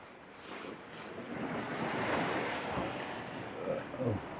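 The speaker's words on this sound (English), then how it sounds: "Wind is strong." Strong wind at a beach on a rainy day, steady rushing and buffeting that swells slightly midway, with soft surf beneath.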